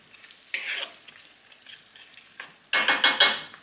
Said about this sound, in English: The shallots now cooking nicely.